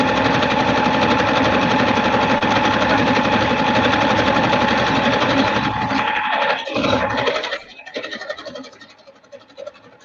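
Sewing machine stitching a baby rag quilt, running loud and continuous with a rapid rattling stitch for about six seconds before slowing into uneven bursts and fading near the end.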